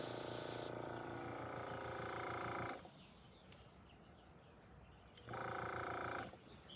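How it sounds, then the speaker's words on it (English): Air leaking from an ill-fitting hose makes a steady, close hissing spray that stops and starts in bursts, with quieter pauses between them. "I don't have the right hose for this, so it leaks a little bit."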